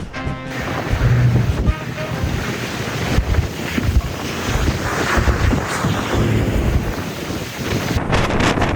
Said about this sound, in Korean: 여기 바람 장난 아니다